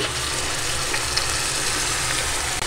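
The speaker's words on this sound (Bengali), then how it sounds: "এ পর্যায়ে একটু পানি দিয়ে দিচ্ছি," A splash of water poured onto chopped onions frying in oil for a hilsa dopeyaza, giving a dense, continuous close-up sizzle and hiss that holds steady throughout.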